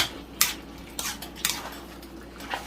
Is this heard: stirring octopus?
yes